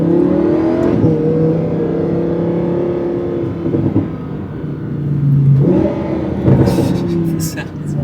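A twin-turbo V10 Audi R8 accelerates on a public road, its engine note climbing steadily and staying close and loud beneath continuous conversation inside the car.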